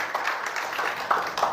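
A church congregation applauds for Jesus during a sermon, a steady wash of clapping from many hands with a few louder bursts near the end, moderately close and without talk over it.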